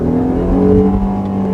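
A Jeep Grand Cherokee L, a 2.4-tonne SUV with a naturally aspirated engine, accelerates on the road, its steady low engine drone rising slightly in pitch under heavy road rumble, heard from inside the cabin with no talk.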